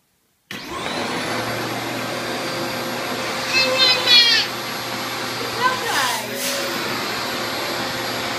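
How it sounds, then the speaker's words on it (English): A household vacuum cleaner switches on and drones loudly and steadily at close range, with a pug present and brief higher whines and bumps as it moves. "Ashley was never afraid of the vacuum cleaner, but Andrew was terrified of the vacuum."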